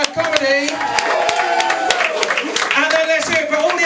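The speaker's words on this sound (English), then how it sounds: "Give yourselves a round of applause for supporting live comedy." Comedy club audience clapping and cheering at a show's close, a dense, steady burst of applause with voices mixed in over roughly four seconds.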